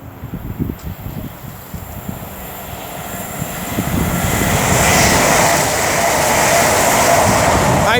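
Class 805 train running from Liverpool Lime Street to London Euston passes at Rugeley Trent Valley on the West Coast Main Line, a rumbling roar that builds from moderate to loud and holds steady, with no voices.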